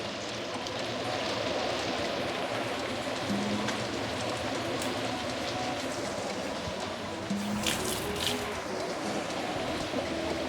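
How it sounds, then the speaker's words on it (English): Light soy sauce goes into a hot wok of Sichuan dry hotpot, giving a steady, fairly quiet sizzling hiss that holds throughout, with a brief louder flare near the end. "now I'm going to give it some light soy sauce"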